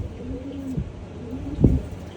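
Pet pigeons coo close by, two soft, low, wavering calls with a brief flutter-like thump between them, over faint background noise and no speech.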